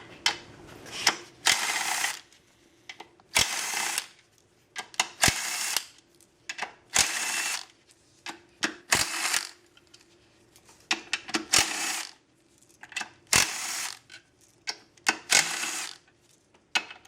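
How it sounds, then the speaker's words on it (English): Ratchet working bolts loose on the intake manifold cover of a 2003 Honda Accord V6, in bursts of rapid clicking separated by pauses and sharp ticks, close and fairly loud. "Just start removing the bolts."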